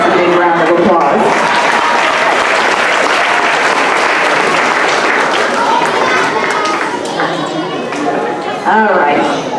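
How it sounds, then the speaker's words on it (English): A school audience applauds a student at a STEM students-of-the-month assembly, a loud, dense, continuous wash of clapping with chatter and voices mixed in throughout. "let's give Max a big round of applause"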